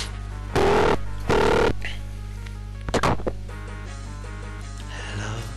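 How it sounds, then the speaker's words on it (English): Telephone dialing tones sound in short, loud, steady beeps, with two long tones followed by a quick cluster of brief pulses, then a fainter tone at the end, over a steady low hum. "I'll phone a Mark"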